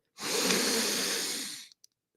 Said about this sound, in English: We'll do another deep breath all the way in.